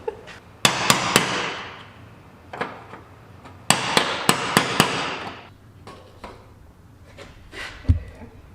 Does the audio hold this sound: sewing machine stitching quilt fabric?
no